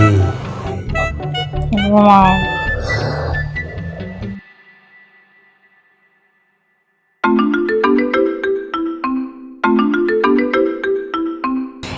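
A phone rings late at night indoors, a bright melodic ringtone in two repeated bursts after a stretch of silence, following earlier talk and background music.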